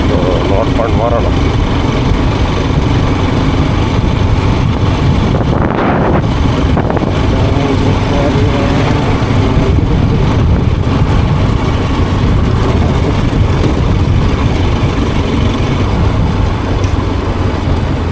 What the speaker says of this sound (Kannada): ಬೈಕ್ ಸ್ವಲ್ಪ ಐಡ್ಲಿಂಗ್ ಲೋ ಆದಮೇಲೆ ಒಂದು ಬೀಳ್ತೇವೆ.